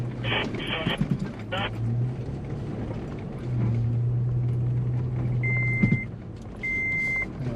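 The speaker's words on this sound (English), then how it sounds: "Just the car beeping at me because I didn't put my seatbelt on." A four-wheel drive's seatbelt warning chime sounds as repeated electronic beeps over the steady hum of the idling vehicle, with a voice speaking in the cabin at the start.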